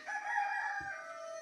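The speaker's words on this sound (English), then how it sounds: "now that all the roosters are agreeing with that" A rooster crows once, a long harmonic call held close and clear against a quiet background, with a brief low thump partway through.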